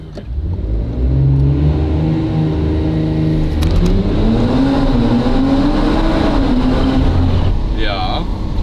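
A 2024 Audi RS4 B9 accelerating inside a tunnel: a loud engine note climbs steadily in pitch, booming and reverberant off the walls, with a brief shift dip midway and a person speaking over it near the end.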